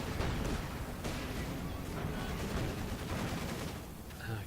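Battlefield fire in the Company of Heroes 2 video game, dense bursts of machine gun shots mixed with heavier distant blasts, continuous and moderately loud with no speech.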